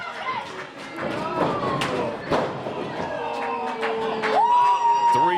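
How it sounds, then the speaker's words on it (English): Heavy clotheslines and body slams thud onto a pro wrestling ring in repeated dull impacts, with crowd noise and commentary running over them. "Big clotheslines from the big guy CEO"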